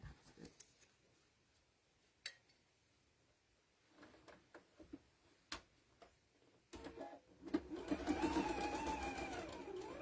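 A sewing machine stitches a quarter-inch seam on potholder fabric, its motor running in a loud steady whir for the final seconds after a stretch of scattered ticks and small handling knocks.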